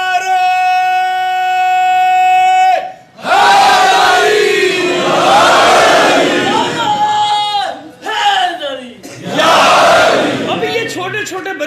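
A crowd at a Muharram majlis shouts a religious slogan in unison, loud, massed voices that answer a leader's call in repeated surges with short pauses between them. The leader's single voice leads in first.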